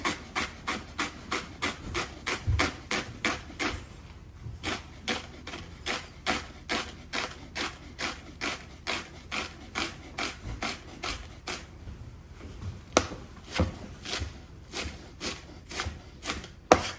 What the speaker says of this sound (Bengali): এখন কাটবো পেঁয়াজ